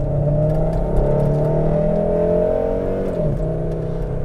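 A 1997 Volvo V70R AWD engine pulls under steady acceleration from inside the car, a loud droning hum rising gradually in pitch, then dipping briefly at a gear change before climbing again, with no talking.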